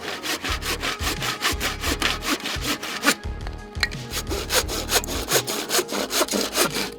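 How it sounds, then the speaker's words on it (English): A hand saw cutting a long wooden beam into shorter pieces with angled ends, outdoors in a forest; loud, close, rhythmic back-and-forth strokes with a brief pause midway. "From a long wooden beam, we cut 4 shorter pieces with ends angled at about 60 degrees."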